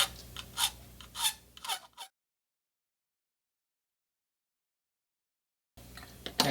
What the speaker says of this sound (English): Here, you can use the file,